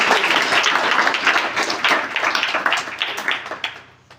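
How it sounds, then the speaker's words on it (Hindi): Applause from a children's general-knowledge quiz audience, a burst of many hands clapping quickly and loudly, then thinning and fading out over a few seconds. "ताली मारो।"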